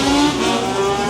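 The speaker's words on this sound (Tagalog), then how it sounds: "Pero, ang lakas ng motor." Loud motor vehicle engine on a Tokyo street, a close, steady roaring drone with a rising harmonic whine throughout the short burst, no talking.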